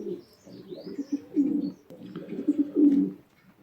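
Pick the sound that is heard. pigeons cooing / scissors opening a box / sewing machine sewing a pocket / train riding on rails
pigeons cooing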